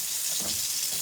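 Tap water runs in a short steady stream as hands are washed after handling slippery, itchy freshly harvested papaya.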